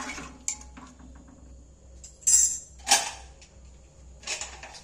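A metal spoon stirs salt into soaking chickpeas inside a pressure cooker, giving a few close, bright clinks and scrapes against the pot in short bursts with quiet gaps between and no talking.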